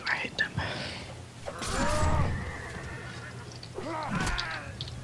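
A horse neighs during a Mount & Blade battle, two short whinnies rising out of a noisy backdrop of combat, with a voice speaking softly in between.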